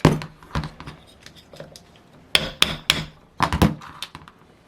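A stuck gasket part is tapped loose on a Saito FA-300T model aircraft engine, giving a series of light, close, irregular metallic taps and knocks in small clusters.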